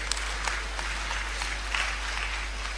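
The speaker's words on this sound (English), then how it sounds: "if you want to clap, feel free" Fairly faint audience clapping at a youth empowerment summit talk, a steady wash of many hands with a few sharper claps standing out, under a constant low electrical hum.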